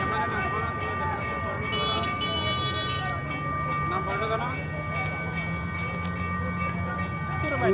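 A local train from Chattogram, broken down about half a kilometre short of Cox's Bazar station, with its engine droning steadily near a rail crossing, a sustained high whistle tone overhead and crowd noise and voices mixed in throughout.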